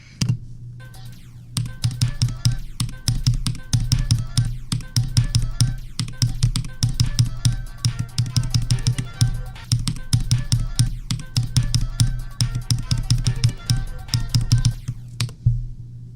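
Rapid, steady clicking of a computer keyboard being typed on, close and fairly loud, continuing for about fifteen seconds after a brief quiet start, with no talk over it.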